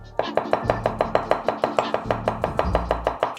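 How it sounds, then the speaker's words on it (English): Garlic being roughly chopped with a knife on a cutting board, a rapid, steady run of close, sharp strikes, about six per second, with no talk. "Of course, our garlic, which I'm gonna kind of like partially chop up just to kind of help it whiz up faster."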